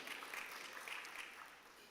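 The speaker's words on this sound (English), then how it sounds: "give her a round of applause" A conference audience at an agri-business investment forum in Jamaica applauds steadily, a dense, even wash of clapping that holds at a fairly constant level for the whole stretch without voices over it.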